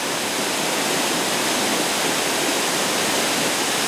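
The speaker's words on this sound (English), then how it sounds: "As you watch it cascade down the cliff face, the crashing water echoes and reverberates throughout the valley." Neidong Waterfall cascading down a cliff face into a valley at its mid-level stage in Neidong National Forest Recreation Area, a steady, dense, loud roar of crashing water that never lets up and drowns out all other sound.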